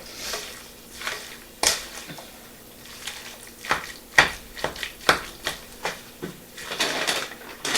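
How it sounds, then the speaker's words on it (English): A loaded potato casserole being stirred, with a spoon making soft, irregular wet scrapes and squishy pushes through the mixture, close up and fairly quiet, repeating in uneven strokes with no talking. "Give this a little stir to make sure the liquid's not totally sitting on the bottom."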